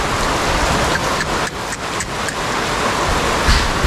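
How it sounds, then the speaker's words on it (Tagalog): Heavy typhoon rain pours down in Camarines Sur, a dense, unbroken roar of drops hitting surfaces close by, loud and steady with no voices. "Yan po, nilakasan na ang ulan."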